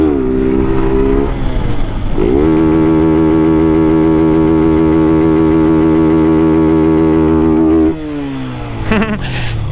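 A motorcycle pulls hard in fourth gear, its engine loud and close, rising in a strong whining climb before easing off and picking up again near the end.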